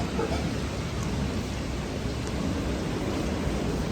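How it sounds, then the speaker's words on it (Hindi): A storm sends wind rushing through trees near a graveyard wall, a dense, steady roar close to the microphone that stays unbroken and fairly loud, with no talk. "हवा चलती आवाज़ आ रही"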